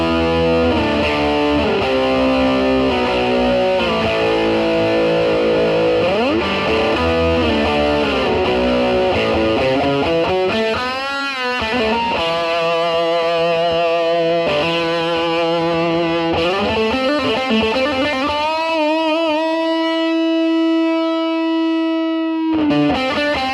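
Heavily distorted humbucker electric guitar played through a Blackstar HT5R tube amp with the gain cranked, loud sustained chords and riffs throughout, ending on a ringing held chord with no talking.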